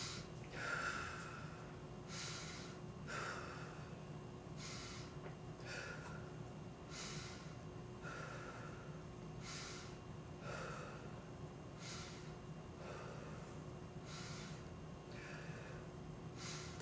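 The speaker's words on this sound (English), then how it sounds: "Deep breath in and out." A patient breathes deeply in and out during lung auscultation, with about a dozen regular, airy breaths spaced roughly a second or so apart. A steady low hum sits underneath throughout.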